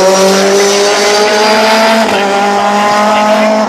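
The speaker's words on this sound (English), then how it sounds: "So as they all go down towards Shed Oils, here comes Jordan Sanders" Race cars at Oulton Park circuit in drying conditions roar past close by, loud sustained engine whine with strong tonal harmonics shifting in pitch as the cars pass.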